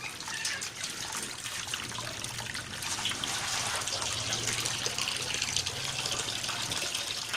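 Hot water runs steadily from a still during distillation of herbal chicory extract, a continuous close trickle and splash with no talking.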